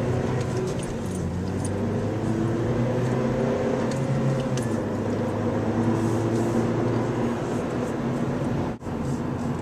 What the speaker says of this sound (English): The exhaust sounds great. It does. Nice deep tone, but it's not annoying.